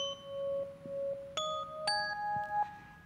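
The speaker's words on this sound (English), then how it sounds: "a synthesized bell sound." Synthesized bell tones played live from JavaScript code at a tech conference, a sequence of clear sustained chimes stepping through several pitches, each struck note ringing out over quiet background, no voices.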